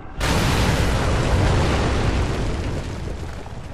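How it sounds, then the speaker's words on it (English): A large explosion in the survival horror game The Evil Within bursts suddenly into a dense, loud roar that rumbles on and slowly tapers, with no talking over it. "That's gonna be a big explosion."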